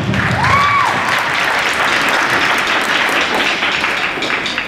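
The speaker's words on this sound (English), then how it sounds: "yeah, you can clap for her" Audience applause in a school gym at a dance team senior night, a loud sustained crowd of clapping hands filling the space throughout, with no speech over it.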